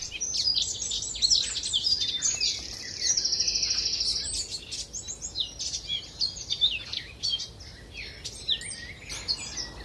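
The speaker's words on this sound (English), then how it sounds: "we've got the speedy blackcap song again, and the rattle, or cackle, call it what you will, of magpies" A dawn chorus with a blackcap's fast warbling song and the dry rattling cackle of magpies, several birds calling at once at moderate distance, with no voices.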